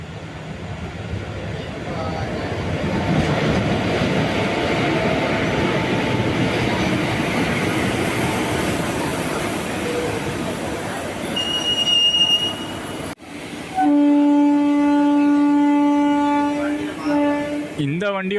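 Train on the Sengottai–Tirunelveli line through the Western Ghats in Tamil Nadu runs steadily with loud rolling wheels and squeals, then a long horn blast sounds near the end.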